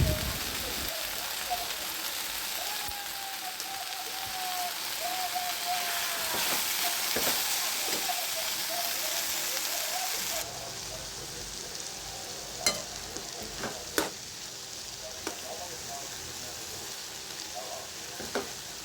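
A steady sizzling and bubbling of salted tomato pieces cooking soft in a pan, with a few sharp clicks and taps near the end.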